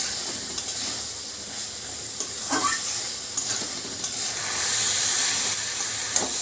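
Chickpeas sautéed in a pan to dry off their water, a steady soft sizzle and hiss with occasional light scrapes of stirring, close by, the sizzle swelling slightly toward the end, no voices.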